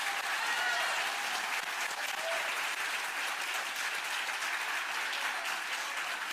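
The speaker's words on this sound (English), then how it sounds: "give them a big round of applause for them being here" Audience applause at a Houston mayoral candidate forum on parks and open space, a steady even wash of many clapping hands at fairly low level, continuous throughout with no talk over it.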